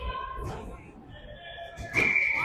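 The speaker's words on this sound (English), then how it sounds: "refs have blown the whistle." A referee's whistle at a youth ice hockey game gives a short, sharp, steady blast near the end, over low arena murmur.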